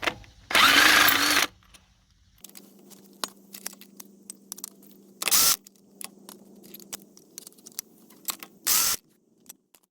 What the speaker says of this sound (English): Now you want to remove your lug nuts.